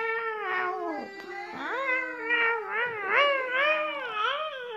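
A cat meows and caterwauls up close, with several drawn-out, wavering, rising-and-falling cries following one another almost without pause.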